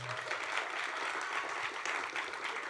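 Banquet guests at a college senior awards dinner give a round of applause, a steady, even patter of many hands heard at moderate distance without speech.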